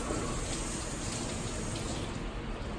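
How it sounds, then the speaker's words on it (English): A kitchen tap runs in a steady, even gush as an onion is held under the stream to rinse it in a culinary class. "You just grab this, put it in running water for 5 seconds."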